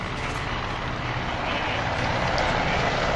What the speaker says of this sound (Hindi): MI-17 हेलीकॉप्टर्स की फॉर्मेशन